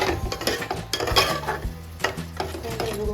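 Marinated chicken with yogurt stirred and fried in a pan: busy scraping and clattering of a utensil against the pan over a soft sizzle, close and continuous with no voices.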